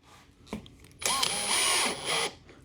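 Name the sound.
power drill running Star-M countersink bit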